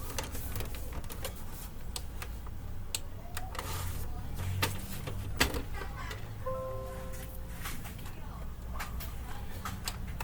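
Faint clicks, ticks and soft mechanical whirs from the print head carriage of an Epson L220 inkjet printer being tested for a blinking error fault, with quiet room noise and a short tonal whine partway through.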